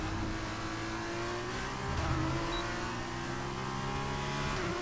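Engine of an F1 race car in the F1 23 video game, a steady high-pitched whine with harmonic layers, the throttle feathered lightly so the note wavers and swells slightly midway, continuous and close with no talk.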